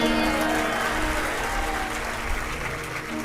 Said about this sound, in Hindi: काय को बजा रहे हो ताली तुम?